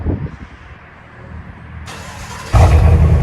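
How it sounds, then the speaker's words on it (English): A GMC Sierra Denali with a 6.2L V8 and a Flowmaster Super 10 Outlaw race muffler idles at first, then its exhaust swells into a loud, deep, sudden rev close by. "We swapped it out for a Super 10 race muffler Outlaw."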